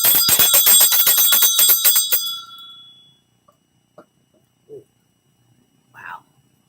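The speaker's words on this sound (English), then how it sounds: "That bell sounded a little different just now." A bell rung during a tarot reading gives a bright metallic ringing with rapid repeated strikes that decays over a few seconds, followed by quiet with a few faint small knocks.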